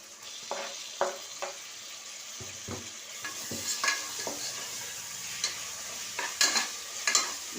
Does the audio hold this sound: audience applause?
no